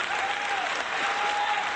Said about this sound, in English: Let me get an applause for my man Jdurty, yo.